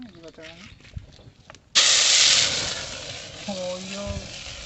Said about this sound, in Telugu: ఫ్రెండ్స్, ఫస్ట్ దంచి పెట్టుకుని అల్లం వేస్తున్నాను